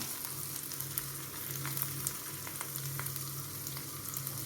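Onion, curry leaves and bird's eye chilies frying in a pan for a Kerala egg thoran, a steady crackling sizzle throughout with faint scattered pops and stirring.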